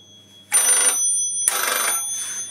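Signal bell on a Northern Electric broadcast set rings in two bursts, the second longer and fading, loud and close with nothing else heard.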